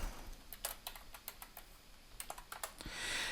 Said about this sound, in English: you'll notice that I can type in a message